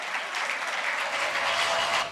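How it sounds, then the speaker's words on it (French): A crowd claps steadily and fairly loudly for about two seconds, a dense wash of applause from an audience that tapers off slightly at the end. "Je vous demande de l'applaudir bien fort."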